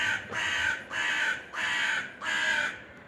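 A crow in a garden gives four loud, harsh caws in a steady rhythm, close by, with no talk.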